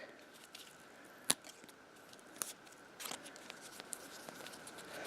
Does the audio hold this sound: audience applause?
no